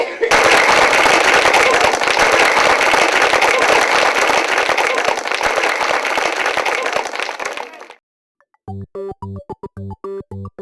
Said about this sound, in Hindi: आप लोग भी जोरदार तालियों की गड़गड़ाहट के साथ हमारे नेताजी का स्वागत करें